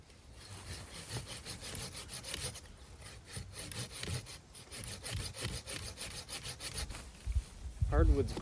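A hand saw cuts through hardwood firewood at a backcountry campsite in late fall, the rasping strokes continuous and fairly close, with a brief thump near the end.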